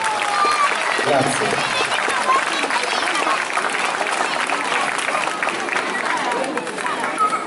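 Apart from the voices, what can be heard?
audience applause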